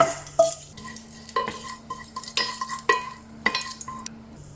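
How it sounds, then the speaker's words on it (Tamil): Pepper, cardamom, cinnamon and bay leaf tempering in hot oil while a metal spoon stirs and knocks against the pan, producing repeated clinks and scrapes over a light sizzle, close, with no talk. "எண்ணெய் சூடானதும் அதில் 4-5 மிளகு, 1 ஏலக்காய், 2 பட்டை, 1 பே லீவ்ஸு இதை போட்டு தாளித்து விட்டுருங்க."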